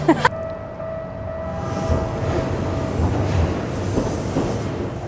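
A train rumbles past at steady volume at Shinagawa Station in Tokyo, a broad roar of wheels and rail noise after a brief clatter at the start.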